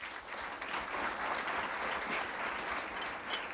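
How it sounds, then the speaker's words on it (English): An audience applauding at a talk session, a steady, fairly distant patter of many clapping hands lasting throughout at moderate, even loudness, with no speech over it. "Can we have another round of applause for Mrs. Sudha Murty and Vinod Giri?"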